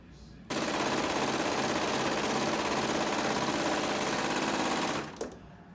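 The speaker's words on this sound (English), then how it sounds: "Always stitch from top to bottom to make sure that pocket edge gets sewn in correctly." A sewing machine runs continuously, stitching a skirt pocket seam in a steady, loud mechanical whir that starts abruptly, holds for several seconds and then stops.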